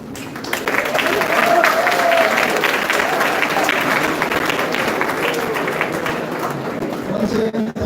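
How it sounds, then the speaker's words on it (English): Audience applause at an MOU signing event, a steady wash of many hands clapping that fills the whole stretch at even loudness, with a few voices mixed into the crowd noise. "give them a round of applause."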